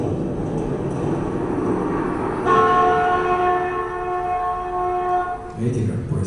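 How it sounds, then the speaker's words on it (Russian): A train pulls away amid a low rolling rumble, and a sustained horn blast sounds for about three seconds in the middle before the rumble carries on. "Видите, как поезд поехал"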